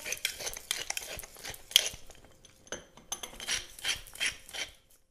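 Gritty rasping and rubbing bursts repeat in short spurts as salt and pepper are ground while seasoning lamb for a Moroccan tagine, close and fairly quiet with small clinks.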